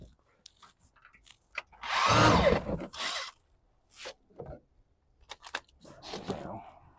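A power tool works at the crank pulley bolt on a Nissan Qashqai 1.2 during timing chain work, one loud buzzing burst followed by shorter clicks, knocks and metallic rattles of nearby tool handling.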